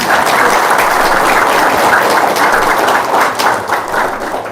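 Sustained crowd applause, dense and steady throughout, with many hands clapping at once and no talking over it.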